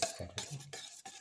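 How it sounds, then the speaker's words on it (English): Chayote pieces are stirred into a beaten egg mixture with a few soft, wet swirls and light utensil scrapes, close and quiet. "Mix thoroughly."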